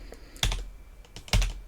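Keys clatter on a computer keyboard while editing in a Linux terminal, two sharp, loud keystroke clusters with lighter taps between, close up and without speech.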